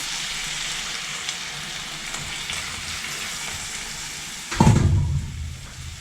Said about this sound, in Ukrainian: До цибулі з часником додаю імбир та далі підсмажую.